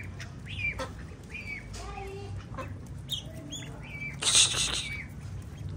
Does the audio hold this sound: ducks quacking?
yes